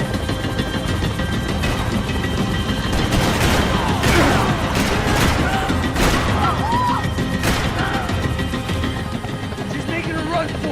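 Dense gunfire rattles almost nonstop in a Max Payne 3 firefight, loud bursts and single shots piling over one another with crashes and impacts, while shouted voices break through.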